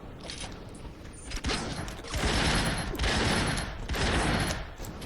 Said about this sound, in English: the pistol is really good